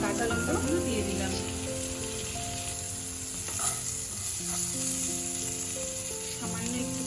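Green chillies drop into a hot pan of spices for a mustard-poppy fish dish and sizzle steadily throughout, a close, continuous frying hiss with faint stirring and background music over it.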